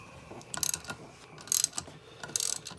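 Ratcheting tool clicking in three short bursts while tightening a valve spring compressor on a Chevrolet LS 5.3 engine, close and fairly quiet, no talk.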